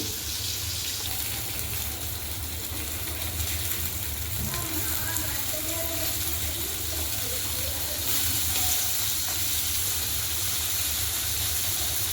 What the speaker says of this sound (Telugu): ముక్కలన్నీ తిరగేసామండి. అటుపక్కన కూడా ఇలాగే బాగా వేయించుకోవాలి.